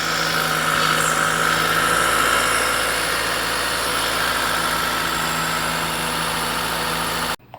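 A 7th-generation Toyota Celica engine idles smoothly and steadily nearby for several seconds, an even hum with a faint vibration, until it cuts off abruptly at the end, with no one speaking.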